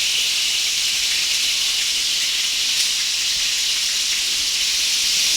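Beef browns in a frying pan with a steady, even, bright sizzle and hiss, close and continuous with no breaks.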